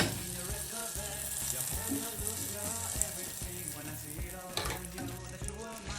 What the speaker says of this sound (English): next I'm just going to add the butter and mix it completely